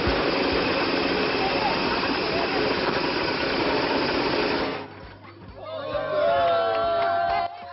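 A loud tomato grinding machine whirs and rattles steadily, then cuts off abruptly; afterward faint voices and a whistling tone follow in a quieter space.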